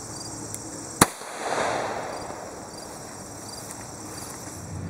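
A single sharp report from a .38 Special +P Hornady Zombie Max round fired from a J-frame revolver into ballistics gel at an outdoor range, loud and abrupt, with a brief rumbling tail and insects buzzing steadily in the background.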